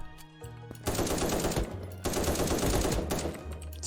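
Rapid automatic gunfire in the browser shooter krunker.io, dense bursts of machine-gun fire from several weapons layered with in-game effects, loud and continuous with a brief lull around the two-second mark.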